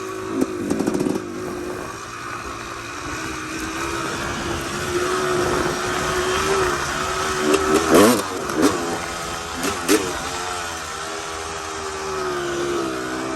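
A Honda CR250R two-stroke motorcycle engine while riding, a loud buzzing, raspy note that holds steady and then rises and falls in sharp revving bursts near the end, close up.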